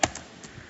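Computer keyboard typing a command, a few quick close key taps, one sharp press followed by lighter clicks spread across a brief moment.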